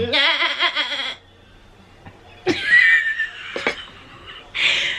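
A voice imitates a goat's bleat in a wavering, quavering tone, followed after a quiet pause by a couple of further bleating calls.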